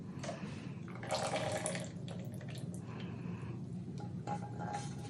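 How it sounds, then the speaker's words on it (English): Melted butter pours into crêpe batter with a soft liquid splash and trickle close by, a gentle wet flow lasting a few seconds. "we're gonna add the melted butter right here at the end"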